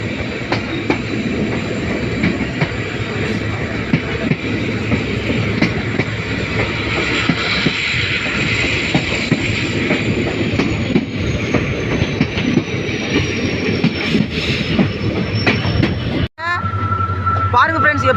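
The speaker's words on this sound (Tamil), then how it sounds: "பாருங்க ஃப்ரெண்ட்ஸ், எப்படி ட்ரெயின் வளைஞ்சு போகுதுன்னு" Train running on rails on a trip to Thenmalai, a steady rumbling clatter of wheels heard up close for a long stretch, a high faint squeal above it, with a brief cut near the end before the rolling noise resumes.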